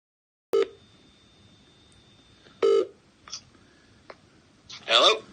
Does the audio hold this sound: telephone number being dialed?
yes